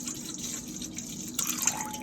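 Liquid smoke barbecue marinade being poured into a container for a kabob marinade, a faint, steady trickle with a few drip-like splashes and no talking.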